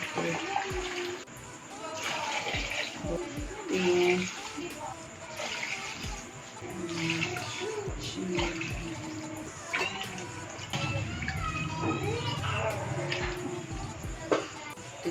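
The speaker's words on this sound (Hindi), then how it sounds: "ये मैं पानी डाल दूँ।" Water is poured into a pot of fried goat trotters being cooked for mutton paya, a running, splashing pour heard under someone talking.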